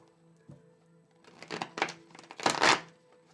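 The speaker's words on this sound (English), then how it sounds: "I have to shuffle. It says shuffle." Tarot cards being shuffled by hand, quiet at first, then several crisp riffling, crinkling bursts building to a louder flurry near the end, close to the microphone.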